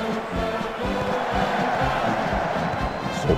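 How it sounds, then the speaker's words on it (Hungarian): Stadium crowd in Football Manager 2020 roaring and chanting after a goal, a steady dense wall of cheering voices with rhythmic low thumps, loud and continuous throughout. "A közönség tombol, énekelnek."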